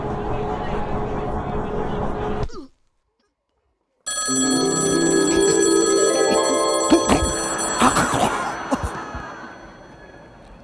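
A telephone bell rings in a comedy show, a harsh metallic jangle that follows a stretch of talk and a brief silence, loud and close, with bright overlapping peals that gradually fade.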